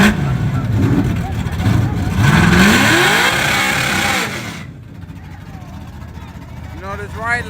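An LS-engined car in a Trans Am versus Nova street drag race roars and revs hard as it pulls away, rising in pitch then fading off, while people nearby talk loudly over and after it.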